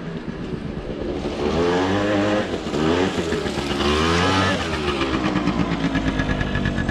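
Scooter arriving at full throttle, a buzzing small engine rising and falling in pitch as it nears, loud and steady throughout with no talk.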